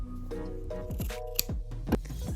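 Scissors snip through the seam allowance of a sewn fabric eco bag, a series of short crisp cuts in close succession, close and alone.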